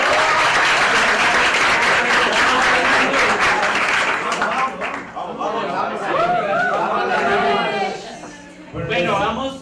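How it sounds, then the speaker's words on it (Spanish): An audience at a journalism talk applauds loudly in dense, sustained clapping that gradually thins out, followed by people chattering and talking nearby. "¡Aplauso!"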